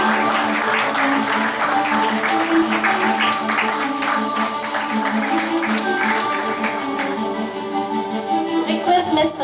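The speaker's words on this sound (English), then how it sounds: "A thunderous applause." Audience applause at a children's hospital launch event, clapping mixed with a tonal, music-like background, lasting several seconds with voices audible near the end.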